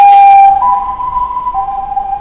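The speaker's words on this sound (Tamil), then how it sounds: "ஆம்புலன்ஸ்." An ambulance siren wails loudly on a street in Myanmar, holding a steady tone that steps up and back down in pitch, with traffic rumble underneath and no voices.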